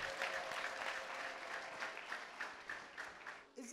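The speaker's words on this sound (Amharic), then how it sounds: "እልልታ ጭብጨባ ለጌታ" A congregation at a prophetic healing service claps for the Lord after a prayer. Brisk, crowded clapping with scattered sharp hits sounds fairly faint and roomy, tapering off near the end.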